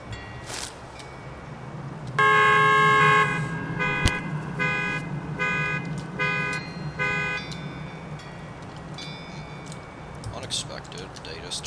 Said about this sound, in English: Unexpected, they just turn on the car alarm.